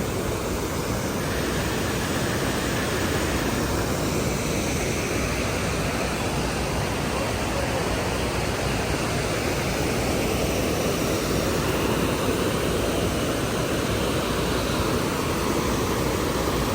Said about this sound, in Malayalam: പാറയുടെ ഉള്ളിൽ കൂടി വെള്ളം ഒഴുകണേണ്.